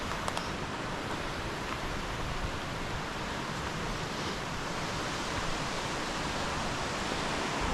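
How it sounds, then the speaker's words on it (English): A wide river in Ferguson Canyon, fanned out across the ground into delta-like channels, pours with an even, full rushing sound, close by and unbroken, with a few faint clicks near the start. "And this river is fantastic."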